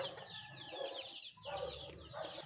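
A broodcock chicken clucks among other fowl at a farm, with a continuous layer of overlapping bird calls and clucks, fairly close and steady with a brief dip midway.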